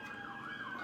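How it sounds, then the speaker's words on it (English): An ambulance siren wails close by, a steady rising and falling tone heard alone for under a second against a faint background. "there's a ambulance right by me"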